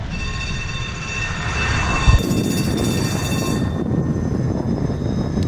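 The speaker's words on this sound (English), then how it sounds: "there's a tram behind me" A tram rumbles steadily past at night in Munich in December, with a low mechanical roar and a faint whine running through it, loud and close throughout.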